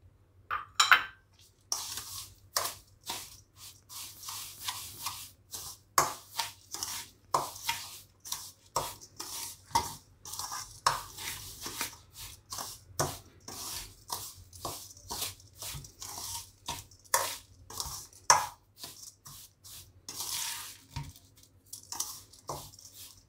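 Red chili powder stirred into a fenugreek-based pickle masala makes a series of close, uneven scraping and clinking strokes of a spoon against a metal bowl, with short gaps between them and no speech.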